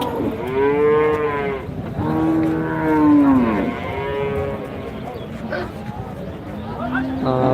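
Cattle lowing repeatedly at a busy Rajshahi city cattle market, several long loud moos from nearby animals with crowd noise and voices in the background.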